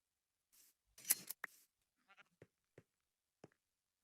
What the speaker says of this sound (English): And I went ahead and found some sheep to shear.